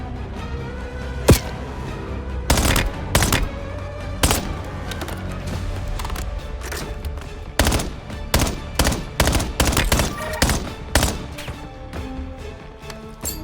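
Gunfire in the video game Black Ops 7, with sharp bursts of automatic fire and single loud shots scattered irregularly across the stretch, close and punchy over a low game background.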